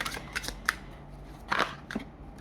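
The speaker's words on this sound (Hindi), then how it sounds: "ओके, बहुत सारे कार्ड्स नीचे गिरे, लेट मी शफल अगेन" Tarot cards being shuffled by hand, heard as a few short, crisp riffling and slapping bursts that are close and fairly soft, with quiet gaps between them.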